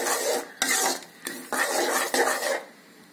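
A spoon scrapes and stirs cardamom powder and sesame seeds into a sweet mixture for pori urundai in a pan. The strokes come in several short, rasping bursts, close and fairly loud, with no talk.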